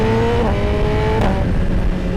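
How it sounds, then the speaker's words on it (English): Quick shifter upshifts on a 2025 Suzuki GSX-R 1000R motorcycle, heard as a loud engine climbing in pitch with crisp stepped breaks between gears over a short run, no talking. "And then listen to the quick shifts."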